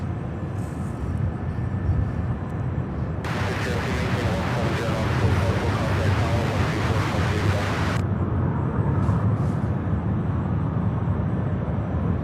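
A Boeing 757 airliner taxis at Louisville International Airport, its engine roar loud and broad in the middle of the clip, then falling back to a steady hum. People chat outdoors around it.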